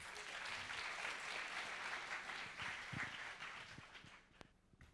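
A hackathon crowd at a closing ceremony in Paris applauds a demo team, dense sustained clapping that fills the room for several seconds and then thins out, with a few louder claps near the end.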